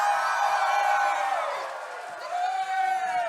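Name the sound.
crowd cheering and applause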